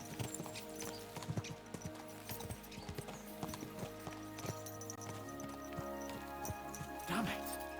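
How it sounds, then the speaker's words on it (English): Horse hooves clip-clop at a trot in the medieval game Kingdom Come: Deliverance II, a steady rhythmic beat under background music, with a brief whinny near the end. "Let's really spur these horses on, eh?"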